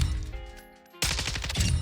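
Weapon test-fired at the Modern Warfare 2 firing range in the video game: a quiet mechanical lull, then a loud, rapid burst of automatic gunfire with sharp repeated cracks, close and continuous to the end.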